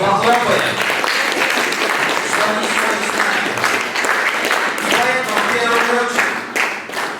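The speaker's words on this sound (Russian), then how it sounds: "Давайте громко им похлопаем." Audience applause in a hall greeting cadets and students at a ceremony, a sustained dense wash of clapping that carries on steadily and thins slightly near the end.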